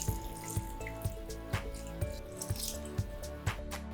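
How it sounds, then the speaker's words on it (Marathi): Water poured into a pot of rice and ivy gourd, a quiet running trickle with rhythmic splashy pulses, close and without talk. "आपण 4 कप पाणी घालून घेऊया"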